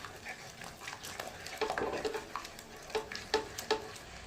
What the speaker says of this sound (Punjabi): ਇਹਨੂੰ ਆਪਾਂ ਤੜਕੇ ਨੂੰ ਹੁਣ ਜਦ ਤੱਕ ਭੁੰਨਣਾ ਹੈ